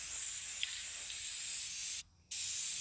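Krylon Fusion All In One paint plus primer spray paint hisses from the can in a steady, close spray onto a car radiator support, with one short pause before the spraying resumes.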